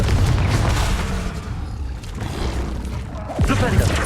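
A fiery Confringo blast spell cast in Hogwarts Legacy, loud booming bursts and crackling impacts amid busy combat noise, with a sharp whooshing blast near the end and a voice talking over it.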